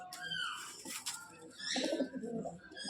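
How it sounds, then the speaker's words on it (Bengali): Pigeons in a loft coo in low, quiet murmurs, with bursts of scuffling and wing movement and a few faint chirps, fairly close but soft. "ছটপটি কবুতর"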